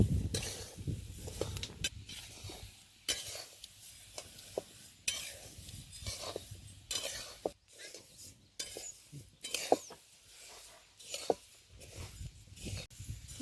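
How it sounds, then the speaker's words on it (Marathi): Coriander seeds are stirred and roasted in a dry pan, with repeated scraping and rattling strokes in an irregular rhythm and a faint sizzle beneath. "आता चांगले धने भाजले गेलेले आहेत."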